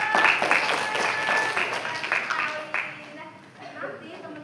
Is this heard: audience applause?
yes